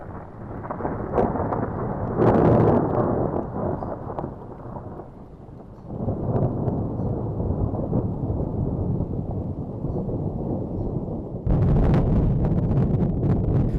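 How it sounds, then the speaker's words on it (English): Low thunder rumbles and rolls steadily through a storm on a Western Australian dam road, with heavier bursts near the start and end, no voices. "it's thundery"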